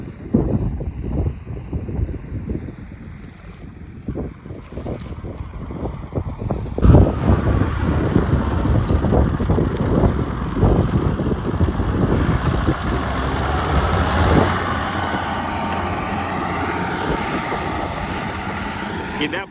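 An MTZ 1221 tractor pulls a PLN 6-35 plough through high stubble under load, its engine a steady, close rumble mixed with wind buffeting the microphone. Someone talks over it in places.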